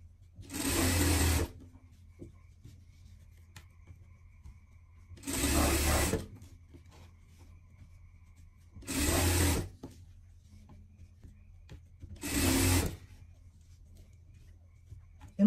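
A sewing machine stitches oxford fabric for a dog harness in four separate loud bursts of about a second each, with quiet pauses between them.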